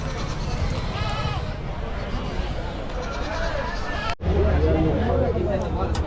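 Goats bleat repeatedly at the crowded Chakan goat and sheep market in Maharashtra, where Osmanabadi goats are traded; the calls rise over steady crowd chatter and talking, with one brief dropout near the end.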